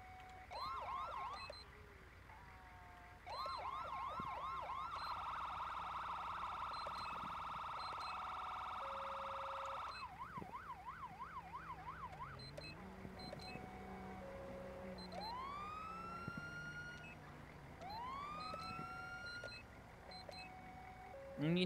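Police siren from the Siren Mastery mod on an ELS vehicle in a video game, cycling through several patterns: rapid yelps, a steady wail tone, fast warbling and rising whoops, fairly quiet and continuous with no talk over it.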